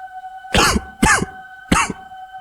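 Three sharp coughs spaced about half a second apart, close and loud, over a faint steady hum in an otherwise quiet space.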